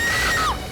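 A woman's shrill scream rings out loud and close in a brief burst, then cuts off sharply.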